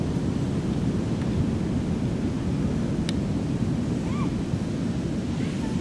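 Ocean surf rolling onto a beach on Indonesia's southern coast, a steady loud wash of waves with wind buffeting the microphone throughout; a faint voice-like tone appears briefly near the end.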